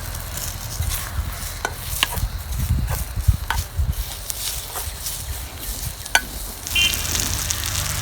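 Green chillies frying in a pan, a steady crackling sizzle with occasional stirring scrapes and taps of a spoon, close and fairly loud, with no voices.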